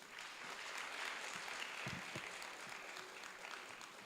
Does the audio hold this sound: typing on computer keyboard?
no